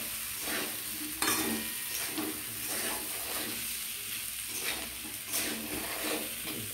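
Mixed spices are stirred into rice in a pan. Faint, soft scraping and rustling come through a low, steady sizzle-like hiss, with occasional brief scrapes and no speech.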